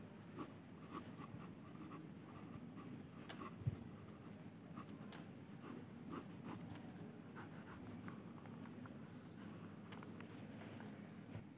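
Chalk or a marker scratches across a board during a lesson, with faint, intermittent short strokes over a quiet room and one soft knock.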